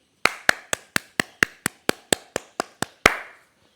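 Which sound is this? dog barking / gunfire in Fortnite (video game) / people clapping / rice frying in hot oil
people clapping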